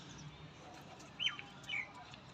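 Teddy pigeons in a pigeon loft give a couple of brief, faint chirps with some soft wing flutter, heard at close range over low background hiss.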